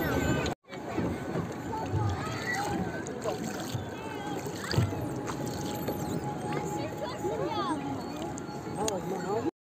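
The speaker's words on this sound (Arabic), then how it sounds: "كم قارب حوالينا" Boats on open water: a continuous rush of water and hull noise with splashing, engine hum and frequent voices talking over it.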